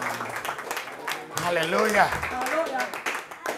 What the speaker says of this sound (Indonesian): Jangan tanggung-tanggung kalau tepuk tangan.